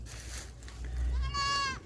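A goat bleats once on a banana farm, a loud wavering cry rising out of low rumbling background noise near the end of the short stretch.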